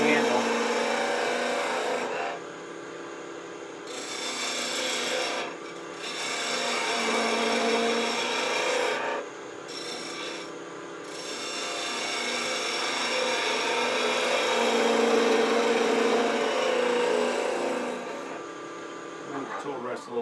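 A wood lathe spins as a gouge carves an elephant figure, giving a continuous rough scraping hiss with brief breaks when the tool lifts off, close and fairly loud, with a voice talking over parts of it.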